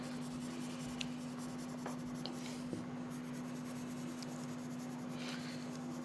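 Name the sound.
colored pencil coloring on paper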